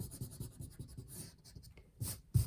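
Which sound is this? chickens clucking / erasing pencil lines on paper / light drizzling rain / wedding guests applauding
erasing pencil lines on paper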